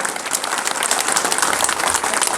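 Dense, steady applause from a large political rally audience for the Prime Minister, loud and continuous clapping filling the space with no voices standing out.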